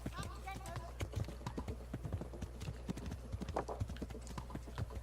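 Horse hooves clip-clopping in an irregular trotting rhythm in the medieval video game Kingdom Come: Deliverance, close and fairly soft, with someone talking over them.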